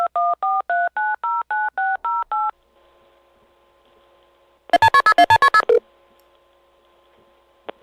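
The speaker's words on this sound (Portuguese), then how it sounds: "Ligando para esse número de telefone, alguém atendia e uma gravação era tocada." A phone number dialed in DTMF tones: a rapid run of about ten evenly spaced beeps, a pause with a faint line hum, then a second fast burst of tones, loud and clear with no voices.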